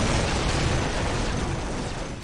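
In the Dawn of War strategy game, destroyed tanks blow up in a loud, dense burst of explosive rumble that fills the moment and then tapers off as it ends.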